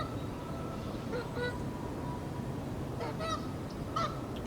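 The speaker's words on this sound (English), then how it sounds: "is that geese or what do they call? That's not a swan." Geese honk outdoors in a few scattered, moderately distant calls over a steady background rumble.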